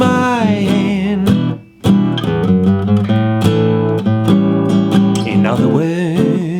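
Jazz guitar plays a chord melody of a song's chorus, ringing full chords with a melody line on top and a brief pause near the start, loud and close with no talking.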